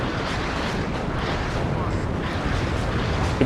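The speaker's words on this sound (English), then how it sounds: "So many rockets landing. Huge strike." A massed rocket strike in the real-time strategy game WARNO lands as a continuous, dense roar of overlapping explosions, loud and unbroken throughout, with talk faintly beneath.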